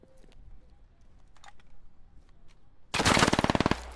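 Automatic gunfire in the video game SquadOps: a loud, rapid burst of shots close by, coming after a stretch of quieter, scattered noises.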